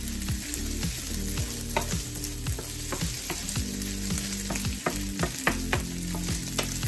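Fried rice sizzles in a pan with teriyaki sauce, a steady crackling fry broken by repeated scraping stir strokes in an even rhythm, close and loud with no voices.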